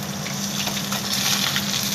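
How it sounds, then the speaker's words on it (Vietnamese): Small tilapia fish fry in a pan on a home stove, giving a steady, close, dense sizzle and crackle with no speech. "vợ đã cho cá chảo rán rồi"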